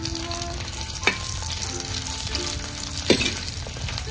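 Black peppercorns fry and get stirred in a hot pan for a Mangalore-style fish head curry, with a steady close sizzle and two brief scraping stir sounds, no talking.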